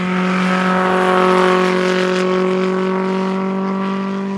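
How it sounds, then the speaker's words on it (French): A Simca 1000 Rallye 2 SRT engine revs loud and close, its strong harmonic drone holding steady and rising slightly before easing off, with no talking. "Et regarde comment ça prend des tours."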